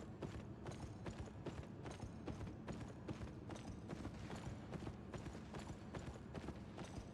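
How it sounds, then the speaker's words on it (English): Heavy stomping footsteps of a creature in the online fantasy game Albion Online thud in a steady, even rhythm throughout, loud and continuous, like trotting hooves on a hard floor. "Here's something stomping."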